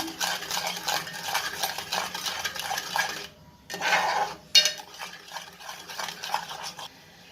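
Mango kheer thickened with rice flour being stirred in a pot, a spoon scraping and clinking steadily against the metal with a short pause midway, close and alone.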